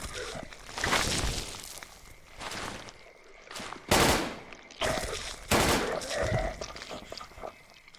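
Bursts of AK rifle fire in the survival horror game Darkwood, several loud volleys spread across the stretch with short pauses between, some footstep-like shuffling and a voice talking in between.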